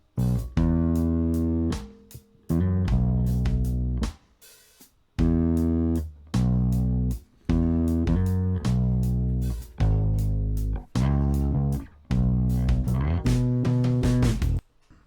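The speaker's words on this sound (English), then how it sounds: "Now let's listen to what the bass is doing here." A bass guitar plays a groove of sustained, deep notes in repeated short phrases, with drums keeping time underneath.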